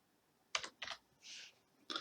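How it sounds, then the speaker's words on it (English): A computer keyboard being typed on while entering text into a table in Microsoft Word: four quick clusters of close, crisp key clicks separated by short pauses, one burst more drawn-out, in a quiet room. "press tab on my keyboard, it gives me a new line"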